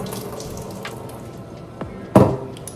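Tap water runs into a kitchen sink as couscous is rinsed, a steady low wash with a sharper splash near the end.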